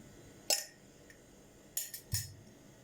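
Spoon clinks against a bowl while yeast and salt are stirred together for a potato börek dough: one sharp tap, a faint tick, then a quick cluster of three clinks over quiet background.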